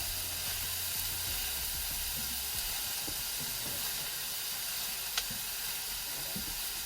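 Peppers and onions sizzle in a pan for chili, a steady bright hiss that holds throughout, with a few soft scrapes and clicks as they are stirred.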